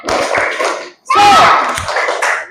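A classroom group gives a short burst of clapping, an Indonesian "tepuk semangat" spirit clap, in two quick phrases with a brief pause between, loud and close, with voices calling out over it.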